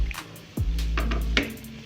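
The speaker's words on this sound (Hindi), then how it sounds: "हाफ स्पाइस डाल के मैंने इसको 1 आध मिनट फ्राई किया" Spices and onions fry in a pan for an egg and onion curry, a steady low sizzle broken by a few scraping stirs of a utensil, close and fairly loud, without speech.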